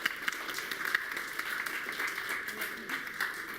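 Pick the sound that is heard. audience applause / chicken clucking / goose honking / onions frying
audience applause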